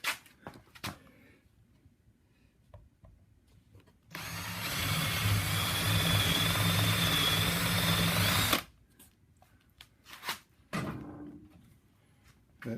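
A power drill bores a hole in wood for a rail-and-slat woodworking build: a continuous, close whine lasting about four seconds, framed by quieter handling knocks and clicks before and after.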